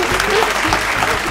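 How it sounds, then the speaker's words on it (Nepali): Audience applause at a community donation event, a short burst of lively clapping from a crowd, loud and close, over in about a second. "ताली बजाइदिनुहोस्"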